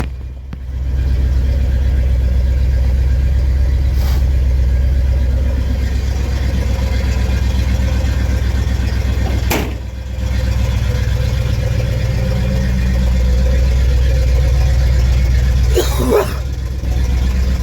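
Carbureted pickup truck with straight exhaust cold-starting after a pump of the accelerator to set the choke, then settling into a loud, deep, rumbling idle up close, with a few brief clicks and knocks along the way.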